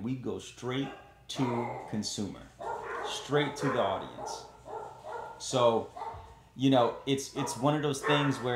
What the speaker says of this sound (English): I'm sorry about my dogs, but every time I record, they tend to want to bark.